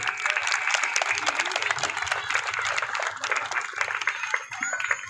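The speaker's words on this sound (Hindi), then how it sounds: "आइए एक बार हम स्कूल के सभी शिक्षकों के लिए इसकी प्रधानाचार्य का जोरदार तालियां बजा जाए" A school audience gives loud applause for its teachers and principal, a dense, steady wash of many hands clapping that fills the room.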